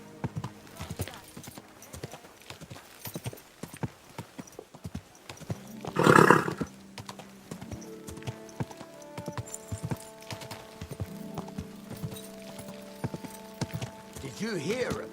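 Steady hooves clip-clop at a trotting pace in Kingdom Come: Deliverance II, with a horse's brief whinny partway through and soft game background music.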